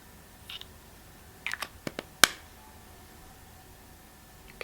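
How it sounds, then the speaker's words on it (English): A pump-top skincare bottle is pressed a few times, giving short, close clicky squirts in an irregular little cluster, in an otherwise quiet room. "And it's got a pump top as opposed to like a spray or anything like that."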